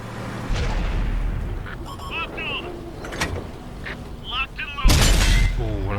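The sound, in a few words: T110E5 tank cannon shot hitting the IS-4 turret, World of Tanks video game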